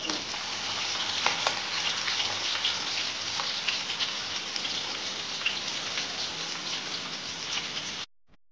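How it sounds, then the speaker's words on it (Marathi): Onion fries in hot oil with garlic and green chili, a dense, steady sizzle with scattered pops that stays loud and even, then cuts off abruptly near the end. "तर कांदा आपला चांगला फ्राय झालेला आहे।"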